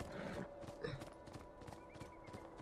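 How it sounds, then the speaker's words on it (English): Horse hooves clip-clopping with a brief neigh in the video game Beyond: Two Souls, faint and soft, under background music and ambience. "Random horse hanging out."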